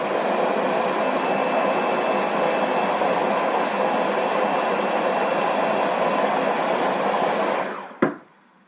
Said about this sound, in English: I'm going to blend it just a little bit more, make sure everything on the bottom